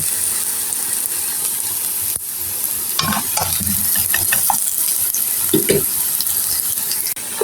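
Tomatoes sizzle steadily in a hot pan while a utensil scrapes and clacks against it in irregular stirring bursts, close and fairly loud.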